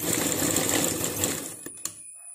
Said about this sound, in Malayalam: അവസാനം നമ്മൾ ഈ ചെയ്ത സ്റ്റിച്ചിൻ്റെ മുകളിലായിട്ട് സ്റ്റിച്ച് ചെയ്യാം